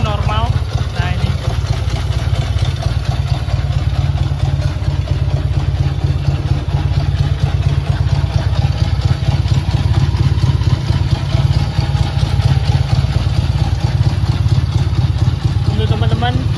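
A 1967 Honda C72 Dream motorcycle engine idles close by with a steady, loud low rumble and mechanical clatter that runs throughout without a break.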